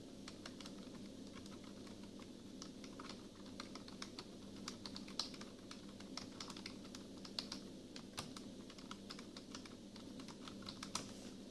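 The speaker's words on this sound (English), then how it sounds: "There is a way to type quietly on the keyboard." Quiet typing on a Lenovo Calliope USB computer keyboard, a steady run of soft plastic key clicks at close range, with no talking.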